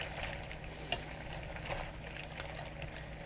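Singapore chilli crab sauce simmers in a pan with the crabs and vegetables, giving a soft, steady bubbling sizzle with small pops, quiet and close.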